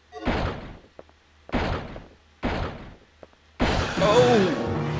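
In the Dino Crisis video game, a dinosaur slams against a door three times in heavy, evenly spaced bangs, then bursts it open with a louder crash that runs into a roaring, screeching cry.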